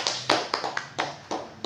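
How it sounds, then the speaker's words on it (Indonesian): A handful of sharp, separate hand claps ring out in a talk show studio, about seven uneven slaps in quick succession with quiet between them. "Tepuk tangan."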